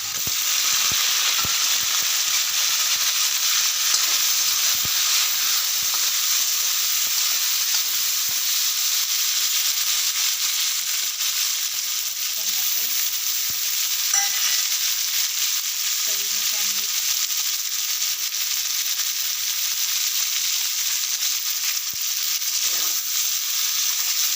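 Cauliflower fries in hot oil, a dense, continuous loud sizzle held close for a long stretch, with faint occasional clinks and no voices.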